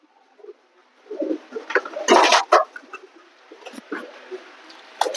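Pigeons kept loose inside a room coo and call in short bursts, loud and close, with a sharper flurry in the middle and brief rustling between calls.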